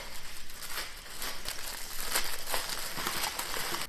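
Plastic wrapping being torn and crinkled off a Hermès bag, a steady rustle of sharp crackles and crinkles up close, with no talking over it.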